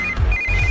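A telephone rings in a Hindi-dubbed South Indian comedy romance film, a short bright electronic ringtone trilling twice in quick succession, close and clear with no voices over it.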